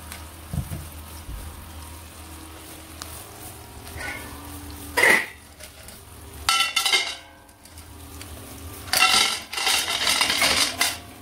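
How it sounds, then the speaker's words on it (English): Stones clatter into a metal pot being lined for baking a meat pie on a stove, with a few sharp clinks and clusters of scraping rattles separated by quiet pauses. "I'm going to line it up with stones and heat it up"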